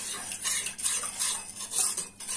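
A spoon scrapes and clinks around a bowl, stirring lokma batter ingredients with sugar in steady, close rhythmic strokes with no talking.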